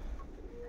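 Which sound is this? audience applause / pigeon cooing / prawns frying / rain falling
pigeon cooing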